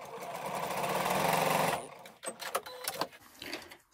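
A sewing machine chain pieces quilt blocks with a quarter-inch seam, running in a brisk, even whir for under two seconds, then falling quiet except for fabric handling and small clicks.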